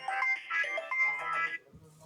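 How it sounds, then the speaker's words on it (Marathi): A melodic electronic ringtone plays a short tune nearby, then cuts off, leaving faint background sound. "आता कोणाचा फोन आला"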